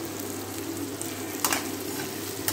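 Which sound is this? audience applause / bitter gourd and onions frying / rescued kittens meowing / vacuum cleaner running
bitter gourd and onions frying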